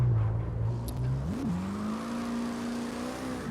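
A V10-swapped Mazda Miata drifting in the CarX Drift Racing Online video game, its engine droning steadily and loud with a sharp rev flare partway through, then holding a high sustained whine under faint tire noise.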